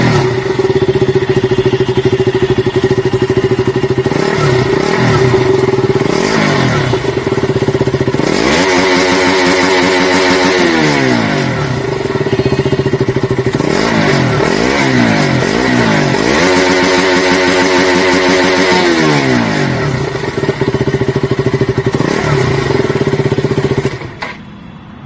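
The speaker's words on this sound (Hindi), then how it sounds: "तो गाइज़ ये था इसका एग्जॉस्ट नोट, मतलब एग्जॉस्ट साउंड।" Stock exhaust note of a 2020 KTM Duke 200 BS6 motorcycle: loud, close, steady idle broken by several sharp revs that rise and fall, ending in a sudden cutoff.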